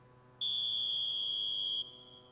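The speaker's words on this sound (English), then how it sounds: "There's the whistle, and here we go." A single sustained referee whistle blast in an eFootball match, a bright steady tone lasting about a second and a half, clear over a faint background hum.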